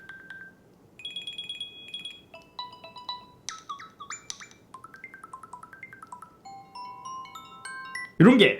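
A new default ringtone from watchOS 11 on an Apple Watch plays a sequence of bright, bell-like synthesized tones in a rising and falling melodic pattern, clear and close, ending with a short louder burst.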